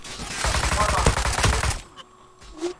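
Rapid bursts of gunfire from the Zula online shooter crackle loudly for nearly two seconds, then thin out into a few scattered shots and clicks, with players chatting over the match.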